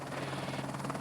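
A helicopter used for short commuter flights in São Paulo gives a steady, throbbing rotor hum over a brief second, moderately faint, with no talk.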